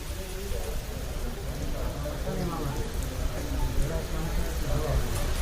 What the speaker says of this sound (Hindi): जहां पर तेज हवाएं भी चल रही हैं और बारिश का दौर भी जारी है